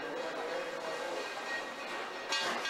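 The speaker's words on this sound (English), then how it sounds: "you can hear the train approaching" A train draws into a station platform in crisp autumn air, heard as a distant, steady rumbling wash that swells slightly near the end, with no voices.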